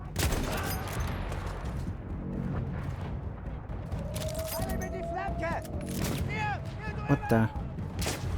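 Battlefield 1 campaign gunfire crackles as a dense, continuous fusillade of shots and booms throughout, with someone talking briefly over it.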